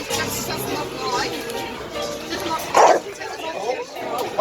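Chow chow dogs at a dog meetup in a dog-friendly cafe give a few short barks and yips amid busy chatter, with people talking close by throughout.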